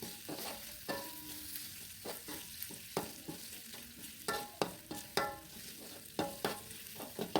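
Spice paste with lemongrass, galangal, bay leaves and lime leaves stir-fried in a little oil for pepes ayam, a continuous close sizzle with frequent rhythmic spatula scrapes and taps against the pan, no voices.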